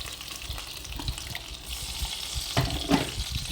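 Pork ribs fry and sizzle in a pan with a little added water, a close, steady crackling hiss with brief bursts as the meat is turned.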